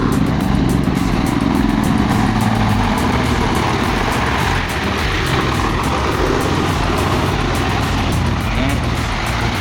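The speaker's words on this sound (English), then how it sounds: "The roar of the engines echoed throughout the area" Military off-road trucks roar through a muddy road in rain, a dense, loud, continuous engine rumble with rough low-end texture and steady wash of noise throughout.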